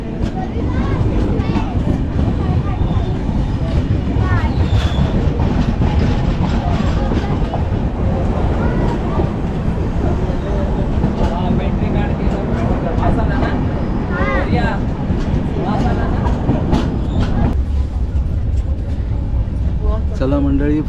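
Aboard the Mandovi Express from Sangameshwar to Dadar, a loud steady rumble of the moving train and rattling carriage fills the scene, with passengers talking throughout.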